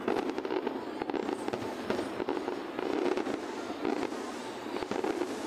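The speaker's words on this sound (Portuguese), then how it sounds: "Tá chegando ao fim aí a queima de fogos." Fireworks go up over Icaraí in Niterói, a dense unbroken crackle of bursts and pops at a moderate distance near the end of the display, without talk.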